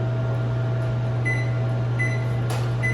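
A microwave oven hums steadily with a low, constant drone throughout, joined by a few faint high tones near the middle and end.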